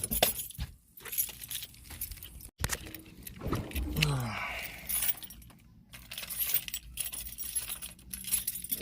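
Car keys jangle and clink in bursts while someone rummages for the key, close by and fairly quiet, with pauses and a brief rustle between the jingles.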